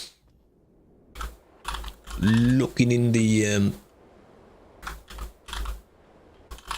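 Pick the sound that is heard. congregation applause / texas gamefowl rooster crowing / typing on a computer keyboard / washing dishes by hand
typing on a computer keyboard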